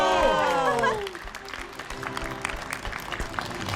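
An audience at a wedding comedy show applauding a couple: a burst of clapping and cheering that swells over a fading musical chord, then thins into scattered, continuing claps, close and lively.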